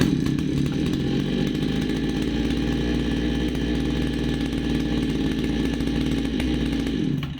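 Mur-cell HR5020 chainsaw, an inexpensive Chinese-made saw, with its two-stroke engine running steadily at a loud buzzing idle up close, then cutting off near the end.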